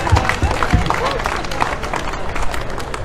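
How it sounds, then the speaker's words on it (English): An audience at an evening tech tour keynote applauds, giving dense, steady clapping mixed with crowd noise for a few seconds. "Let's give ourselves a round of applause for making it out tonight."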